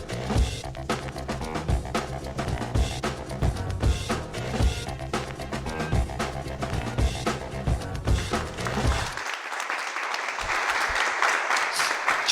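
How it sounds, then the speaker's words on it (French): Short burst of audience applause on a French entertainment show, a bright wash of clapping rising after music with a steady beat fades out at about nine seconds. "Qu'est-ce que j'aime ces petits applaudissements à chaque fois à la fin là."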